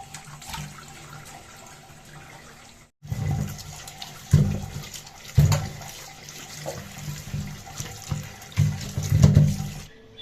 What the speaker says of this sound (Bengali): টমেটোগুলো ধুইলাম মাছটা ধুইলাম